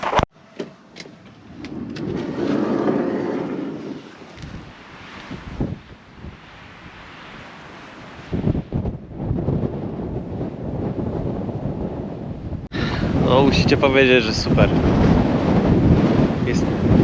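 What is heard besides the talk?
strong wind on microphone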